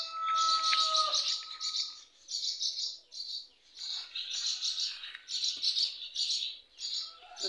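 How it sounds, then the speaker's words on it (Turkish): High, rapid twittering chirps from several swallows, coming in bursts with short pauses, fairly faint and distant with no voices. "Kırlangıçlar da uçuş eğitimi yapıyorlar."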